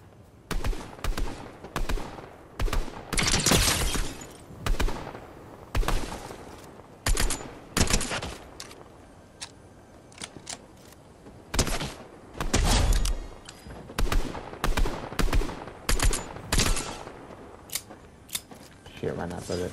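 Sharp, irregular gunshots from a DMR rifle crack out in a Fortnite match, single and double shots with pauses, loud and close, with some talk among them.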